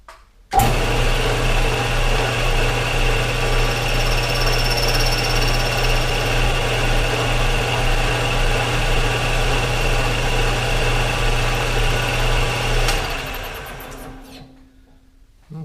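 Steady machining drone while cutting a key seat into a new oil pump drive shaft for a Farmall Super M, running loud and continuous for about twelve seconds before winding down and stopping.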